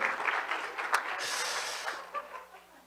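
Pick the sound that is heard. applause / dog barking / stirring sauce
applause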